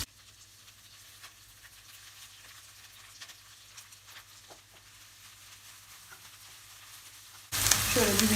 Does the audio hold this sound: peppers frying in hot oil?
yes